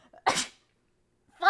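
Two sharp, loud sneezes from a nearby person, the first a full burst and the second starting just as the sound ends, with near silence between them.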